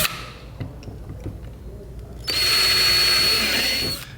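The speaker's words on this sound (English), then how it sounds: "and I'm going to drill my pilot holes." A power drill bores pilot holes for a Railblaza Starport flush mount on a kayak, with a few light handling taps first and then a loud, steady whine lasting under two seconds before it stops.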